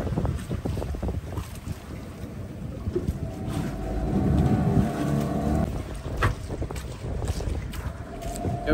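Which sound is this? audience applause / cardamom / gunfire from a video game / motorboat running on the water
motorboat running on the water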